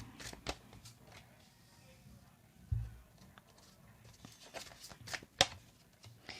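Tarot cards are shuffled by hand, a series of soft quick riffles and taps with a few sharper snaps and a dull thump, quiet and close with faint background breath and no clear speech.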